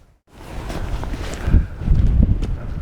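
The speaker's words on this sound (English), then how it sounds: "Yes, it's windy." Wind buffeting a microphone on a hilltop, a loud, gusty low rumble that starts after a brief silence and swells in uneven surges, with no talking.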